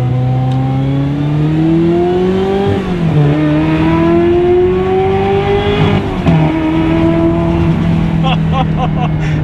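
A Ferrari 355 F1 GTS engine revving under light throttle while driving, rising tones that climb, drop at quick gearshifts, and climb again, loud and close inside the car.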